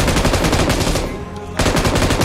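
Automatic gunfire in the battle royale game BGMI: loud, rapid machine-gun bursts, a brief pause, then firing resumes, close and dominant.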